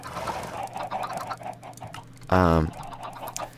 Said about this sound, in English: This is our chicken farm, which is still way too loud.